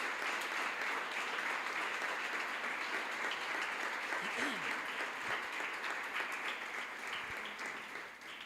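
A church congregation applauds the Lord during a sermon, a steady wash of clapping that carries through the whole stretch at moderate loudness, with a brief voice-like sweep partway through.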